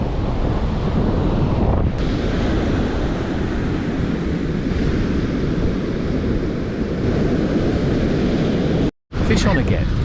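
Strong wind buffets the microphone while surf washes steadily onto a beach at Uvongo, loud and continuous, cut by a brief dropout near the end.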